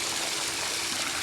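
A steady, strong rush of rainwater pouring out of a fire pit pool heater into an unfinished pool, a continuous broadband gushing with no pauses, close and even.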